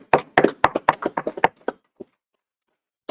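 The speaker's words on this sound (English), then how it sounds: "Clap it up." Scattered clapping from a small audience at a scripture class in Chicago: about a dozen sharp, uneven claps over a second and a half, then a couple of stray claps after a pause.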